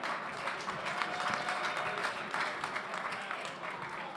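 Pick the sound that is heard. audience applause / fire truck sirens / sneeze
audience applause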